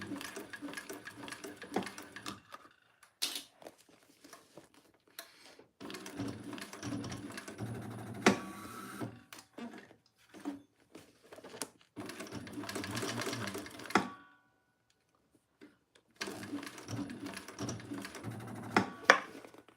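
A sewing machine called Thor stitches over the thick layered areas of a fabric bag, running in long bursts of rapid mechanical whirring and clatter, with short pauses between runs and no one talking.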